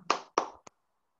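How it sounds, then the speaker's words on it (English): Three quick, close hand claps sound over a video call, the last one softer, each short and sharp with silence after. "Let's give him a virtual round of applause"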